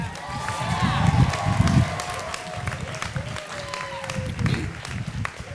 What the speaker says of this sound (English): How about some applause for them?